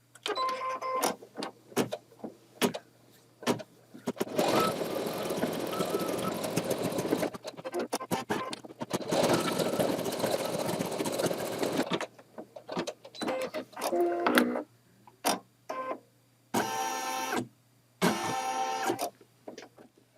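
An embroidery machine stitches an appliqué turkey's gobbler and comb in red thread, rapid mechanical chattering in long bursts broken by short pauses, with beeps and whirring repositioning moves near the end.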